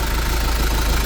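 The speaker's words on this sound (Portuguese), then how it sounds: "avaliando um barulho que está fazendo no motor" A car engine runs at idle with noise coming from a faulty water pump, its belt not gripping fully; a loud, steady, close mechanical hum and rumble without speech.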